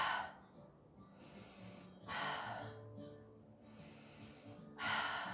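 Deep, audible breaths during a pilates exercise with a bender ball, three broad inhale-exhale swells spaced roughly two seconds apart, close and fairly loud with quiet gaps between.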